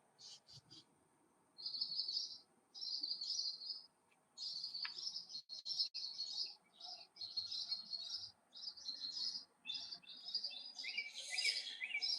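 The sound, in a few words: birds singing at dawn in a garden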